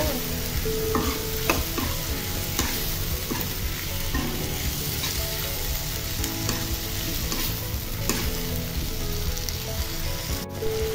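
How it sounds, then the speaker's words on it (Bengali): Potatoes sauté in a pan in a home kitchen for a bottle-gourd peel, egg and shrimp fry, a steady loud sizzle with a scattering of spatula scrapes and stirring knocks, no talking. "তো আলুটাকে দিয়েও আমি আবার 3-4 মিনিট একটু ভালোভাবে কষিয়ে নিব"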